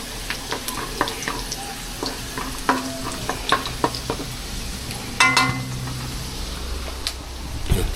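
Garlic sizzles in hot oil in a pan while a utensil stirs it, and the spoon scrapes and clinks against the metal in an uneven rhythm over a steady frying hiss. The sound is close and loud, and no one talks.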